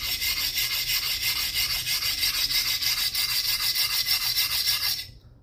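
An axe blade drawn along a whetstone in steady repeated strokes, a close, bright rasping scrape pulsing rhythmically before stopping abruptly.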